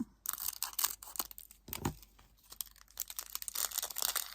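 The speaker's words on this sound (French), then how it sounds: "je vais ouvrir mon petit sachet eau" A small plastic sachet of diamond painting beads is torn open nearby, giving crisp, crinkly ripping bursts with a short pause partway through and no voices.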